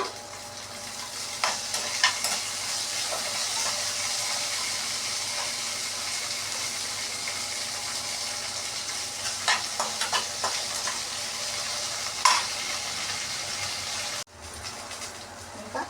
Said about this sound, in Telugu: ఇంకా పచ్చిమిరపకాయలు అయితే ఫ్రై అయినగా టమాటా వేస్తున్నాం.